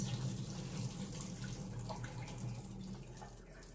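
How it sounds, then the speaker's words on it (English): Salad vegetables are rinsed under a running kitchen tap, a steady close hiss of flowing water with faint splashes and no talk over it. "just to rinse off any dirt that might, or debris that might be on there"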